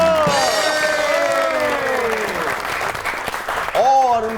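A studio audience at a Pakistani comedy talk show applauds to welcome guest Shaikh Rohale Asghar, a member of parliament. The clapping is sustained and fairly loud, with a voice and tonal music running over it.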